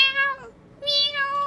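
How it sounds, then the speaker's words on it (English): Two drawn-out, high meows from a tiny kitten named Peach, small enough to fit in a palm, close and fairly loud with a short pause between them. "Yeah, they go meow."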